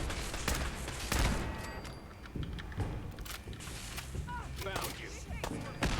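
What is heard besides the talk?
gunfire from a gun in the video game Fallout 4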